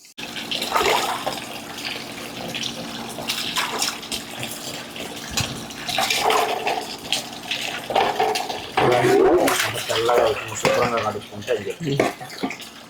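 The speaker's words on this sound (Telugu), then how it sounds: "చక్కగా తెల్లగా శుభ్రంగా నీట్గా కడుక్కోవాలండి" Small pond fish are washed under running water, with splashing and the steady gush of a tap. Someone talks over the water throughout.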